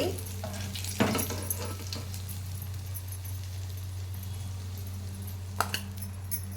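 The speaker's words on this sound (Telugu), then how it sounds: "గుల్లిబిందలు ఫ్రై అండి" Gullibindalu fish sizzle in a frying pan with a soft, steady crackle over a low hum. A few sharp clinks of utensils against the pan break in near the start and again toward the end.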